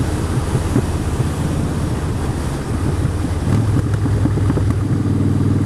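A Harley-Davidson Street Bob motorcycle rides along on a scenic road in Cumbria, its steady engine rumble mixed with heavy wind buffeting across the whole stretch, without speech.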